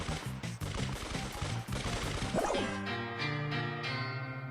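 Rapid bursts of gunfire in a video game one-versus-one brawl, crackling shots over a busy game soundtrack, followed by a ringing musical tone as the round ends.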